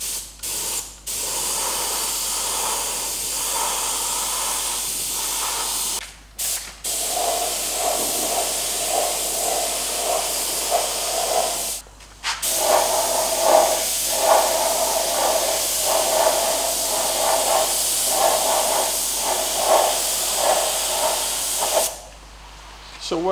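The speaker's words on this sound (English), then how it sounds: "the next step will be to hit this with a bit of etch primer, designed to just stop any potential surface rust" Bursts of etch primer sprayed from a spray gun onto a Land Cruiser FJ45 chassis, a steady close hiss broken by several short pauses between passes, with no talk.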